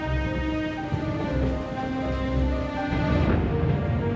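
Steady, dense rain falls during a thunderstorm around a castle, a loud continuous hiss with a low rumble beneath it and no voices.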